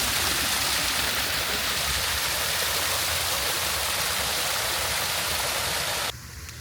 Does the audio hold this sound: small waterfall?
yes